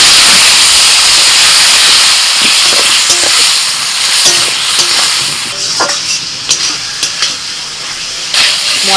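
Spiced potatoes with turmeric, cumin powder and salt sizzle loudly in a pan as a splash of water hits them, a steady hiss and steam with occasional stirring clinks, no voices.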